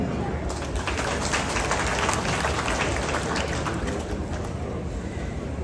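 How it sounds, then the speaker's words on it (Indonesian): Steady applause from an audience at the launch of a Kaamatan harvest festival, continuous and fairly loud across the whole stretch with dense clapping texture. "Beri tepukan."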